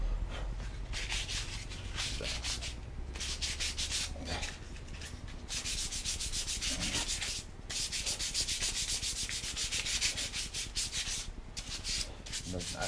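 A wooden spoon being sanded by hand with sandpaper gives a continuous close, loud abrasive rasping, with brisk back-and-forth strokes running almost without a break and no voices.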